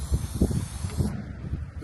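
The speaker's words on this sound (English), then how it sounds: "I'm just going to spray this heavily coated," Short bursts of hissing oil spray coating the inside of a smoker grill, close and fairly loud, with a low rumble underneath, then the hiss cuts off.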